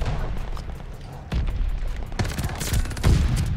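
AS-44 rifle fire in Call of Duty Vanguard, several sharp rapid bursts with short pauses between them, punchy and close over a dense game backdrop.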